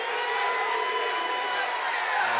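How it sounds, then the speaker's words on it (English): At a high school basketball game between East Hall and Banks County, a gym crowd keeps up a loud, steady roar of jeers and murmuring over a disputed call, with voices blended into one continuous wash. "This crowd is not going to let that call go voicing their displeasure"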